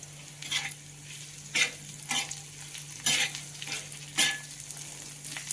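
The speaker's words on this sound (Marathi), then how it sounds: "कढीपत्ता छान परतल्या जातो" Curry leaves fry with onion in a pan for pithla. A steady sizzle runs throughout, broken by a regular rhythm of louder scraping stirs about once a second, with no talking.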